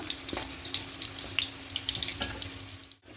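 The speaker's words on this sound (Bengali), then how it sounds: "এবার হাই হিটেটাকে লাল করে ভেজে নেব" Vegetable chops fry in hot oil over a high gas flame, giving a continuous soft crackling sizzle dotted with small pops, close but fairly quiet.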